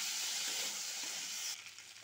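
Ginger and green chilli paste sizzles and fries in a hot pan, a steady close hiss that drops abruptly to a quieter sputter partway through.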